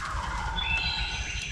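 Wild turkey gobbling, a single rapid rattling gobble call near an open gravel road, loud and clear with steady outdoor background and no talk.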